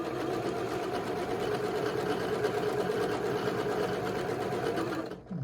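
A sewing machine stitches a quilt block, running as a steady, close, mechanical whirring hum with a fast regular chatter for about five seconds, then stopping abruptly, with no talk.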